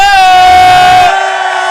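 At a drag show viewing party in a bar, the crowd lets out loud sustained whooping and cheering, a bright piercing mass of voices that cuts off abruptly near the end, leaving quieter crowd noise.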